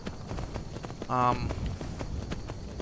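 Horse hooves clopping during horseback riding in Skyrim, a short burst of rhythmic hoof beats over game ambience with someone talking throughout.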